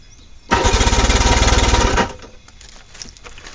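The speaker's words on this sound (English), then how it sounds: "It's cranking the motor." A new LiTime LiFePO4 lithium battery cranks an old boat motor, giving a loud, rapid rhythmic churning for about a second and a half before it cuts off, followed by faint clicks and rattles.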